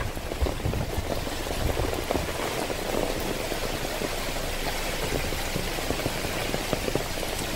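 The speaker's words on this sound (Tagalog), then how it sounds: "Lakas ng ulan." Heavy rain pours down steadily near a hillside house, a dense, unbroken hiss and patter that stays loud throughout with no voices.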